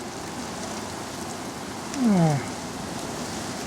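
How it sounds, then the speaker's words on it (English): Heavy April rain falls steadily on an English garden as a broad, even hiss that stays constant throughout, with a brief voiced exclamation near the middle. "I know we've required this rain."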